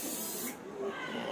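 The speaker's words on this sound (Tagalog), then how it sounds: "ayan, etex spray." Etex spray is sprayed onto racing pigeons in short, close bursts, a steady airy hiss that pauses briefly and then resumes.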